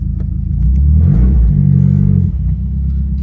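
A car with new tension rod bushings drives on a test ride, its engine rumbling steadily and rising briefly as it accelerates, with road noise throughout and no talk.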